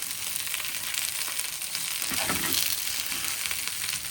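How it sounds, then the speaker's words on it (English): Mushrooms, tomatoes and browning garlic sizzle steadily in a pan for bruschetta, a continuous close crackling hiss with a brief stir partway through. "I've just added in the mushrooms and the tomatoes, because the garlic's starting to go nice and brown. Nice and sizzly."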